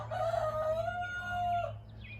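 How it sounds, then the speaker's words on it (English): A rooster crows once just outside a window, a single drawn-out, fairly close call over a low steady hum, tapering off at the end. "Oh, there's a chicken in there."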